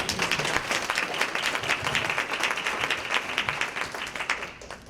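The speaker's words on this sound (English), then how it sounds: "I think you need to give them a round of applause again" A conference audience gives a round of applause, moderately loud clapping that continues evenly for five seconds before fading slightly.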